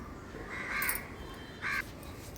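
Two short cawing calls from a crow ring out about a second apart, fairly clear against a quiet outdoor background with faint hiss.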